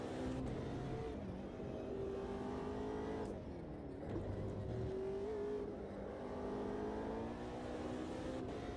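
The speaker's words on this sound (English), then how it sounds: "so we can start pushing the car a little bit harder" A race car engine in Project Motor Racing drones steadily at high revs on a bumpy Nürburgring, rising and dipping slightly through gear changes, loud and continuous with no talk over it.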